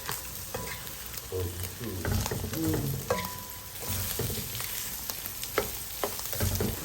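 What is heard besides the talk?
stirring and frying chaipoh in a pan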